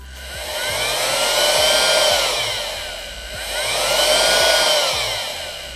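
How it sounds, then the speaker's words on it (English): A small air pump in a homemade powered air-purifying respirator runs steadily with a whining hum that swells and eases twice, as if being dialed up and down, close and fairly loud. "So I turn that on, you can hear the pump going."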